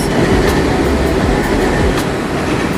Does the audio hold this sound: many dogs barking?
no